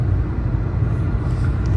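A car cruises along the road from Copenhagen toward Malmö, its steady low rumble and road noise loud and constant inside the cabin, with no gaps.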